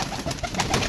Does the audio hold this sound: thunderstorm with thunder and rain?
no